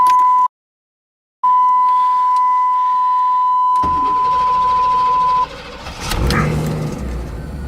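A 1992 Pontiac Firebird's engine cranks and catches after a long steady electronic warning beep, then settles into a rough idle with a brief rev, heard up close.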